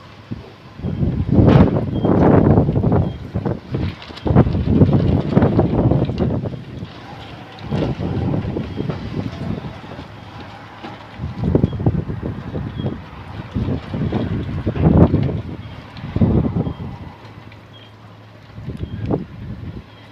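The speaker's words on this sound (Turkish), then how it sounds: "zaman zaman hafifleyen rüzgar zaman zaman da şiddetini artırıyor" Strong wind roars and buffets the microphone in repeated gusts in Giresun, Turkey, rising and falling with no voices heard.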